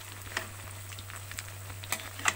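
Food frying in a pan during a morning home cooking session, a faint steady sizzle with scattered small crackles and pops, quiet and alone without talk.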